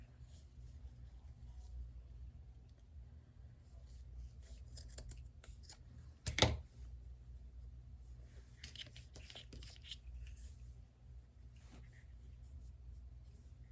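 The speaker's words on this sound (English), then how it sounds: "I'm going to cut it right here at the edge." Scissors snip through vintage quilt fabric at its edge, a few quiet close cuts with one brief louder snip amid soft rustling and a low background hum.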